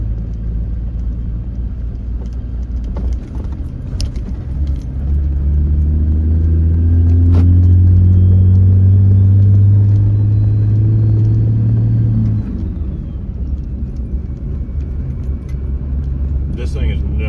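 A 6.7 Cummins diesel truck fitted with a resonator rumbles deeply while driving, swelling into a louder, droning pull in the middle before easing back. The sound comes from close inside the cab, and a voice speaks over parts of it.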